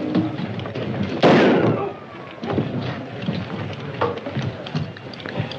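A gunshot in a 1938 western film, a single loud crack with a brief rolling echo, followed by quieter scattered sounds and faint background noise, on an old film soundtrack.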